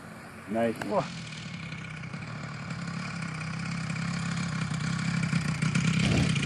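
A large engine, apparently a full-scale stationary machine run at about 20 RPM after heavy throttle, thuds along in a slow, steady low throb that builds slightly in loudness, with a brief burst of voices near the start.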